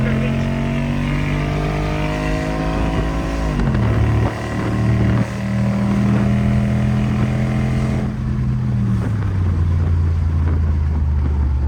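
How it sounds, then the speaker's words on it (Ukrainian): A car launches hard at a drag race start, its loud, close engine note climbing steadily, dropping at two gear changes and rising again each time. "Ну, сейчас Бодя поехал как может, максимально"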